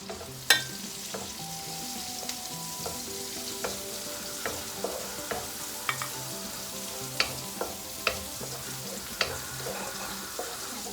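Onion softening in hot oil in a pan for chicken à la king, a soft continuous sizzle with occasional light scrapes and taps of a utensil against the pan, close and fairly quiet.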